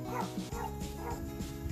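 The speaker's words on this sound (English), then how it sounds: "If you hear squeaking in the background, it's because a certain dog is not allowed in this room." A small Boston Terrier whines and yips in quick high squeaks, close by and continuous, with a short bark mixed in.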